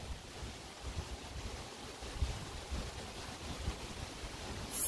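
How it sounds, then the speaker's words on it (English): Strong wind blows outdoors and buffets the microphone in a continuous low rumble with irregular gusts that swell toward the end, with no one talking. "it's so windy out here"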